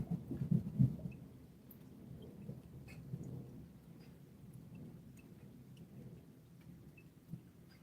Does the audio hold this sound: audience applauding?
no